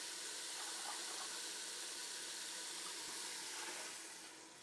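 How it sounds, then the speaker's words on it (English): A cup of water pours into a Ninja Foodi pressure cooker pot, a steady hissing splash that runs evenly for several seconds before tapering off at the end. "I'm going to add a cup of water."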